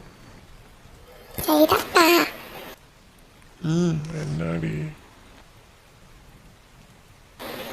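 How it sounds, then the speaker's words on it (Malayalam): Heavy rain hisses steadily in the background while a child and an adult speak in short bursts over it. No distinct thunderclap stands out. "നല്ല മഴ വരുന്നുണ്ട്"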